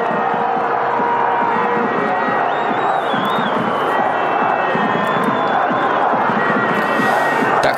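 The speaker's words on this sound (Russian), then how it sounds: "И общее ликование" A stadium crowd at a Rostov versus Krylia Sovetov football match roars and cheers after a goal, a dense, loud sustained wall of shouting and whistles that carries on without letup.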